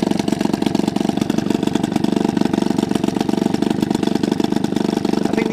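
Mariner 4hp two-stroke outboard engine runs at a steady idle with its cooling pump going, a rapid even putter with a buzzy rattle, close and loud throughout without speech.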